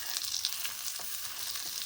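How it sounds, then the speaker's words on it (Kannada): Spices frying in a pan for a fish curry, giving a steady, close hiss of sizzling with faint scattered crackles and no voices. "ಫ್ರೈ ಆಗುತ್ತೆ"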